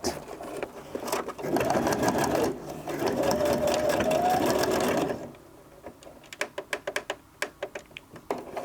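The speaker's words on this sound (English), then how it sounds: "I'm going to open it up and sew it flat." A sewing machine stitches regalia fabric flat, running in a close steady whirr for a few seconds, then pausing and giving short clattering bursts of stitches.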